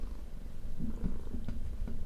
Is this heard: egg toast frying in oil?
no